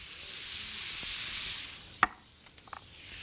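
Red onion dropped into a pan of cooking rock shrimp: a steady soft sizzle, then a single sharp clack and a few light clattering knocks as the onion goes in.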